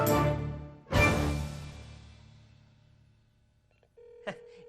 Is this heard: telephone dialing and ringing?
yes